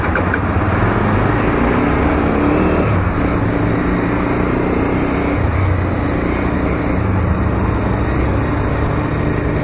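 A motorcycle with a broken clutch cable, started while in gear, runs loud and close with a steady rough engine drone under road noise, lurching throughout.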